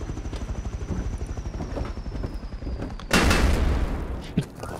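Rapid thumping of minicopter rotor blades gives way to a burst of loud gunfire with a sharp crack during a raid in the game Rust, with no voices.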